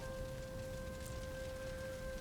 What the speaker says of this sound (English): Enjoy the rain and the ambiance.